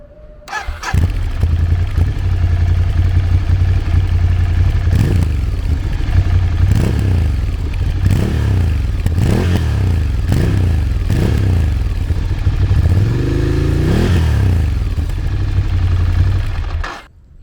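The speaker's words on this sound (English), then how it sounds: "For just a stock exhaust, it has a nice little rumble to it." A Triumph Scrambler Nightshift motorcycle with its stock Euro 5 exhaust idles with a deep, steady rumble, punctuated by several sharp throttle blips that rise and fall, loud and close.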